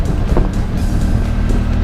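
A ship at sea carrying a vehicle gives a loud, steady low engine rumble mixed with whooshing wind buffeting the microphone, with no clear breaks across the short stretch.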